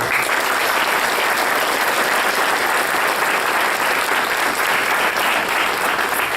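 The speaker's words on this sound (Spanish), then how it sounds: "Vamos a dar un fuerte aplauso a Dios." Loud, dense clapping from a big church congregation, continuous and even throughout, with no voices standing out.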